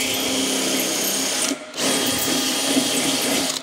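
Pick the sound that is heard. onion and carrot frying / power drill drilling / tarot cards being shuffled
power drill drilling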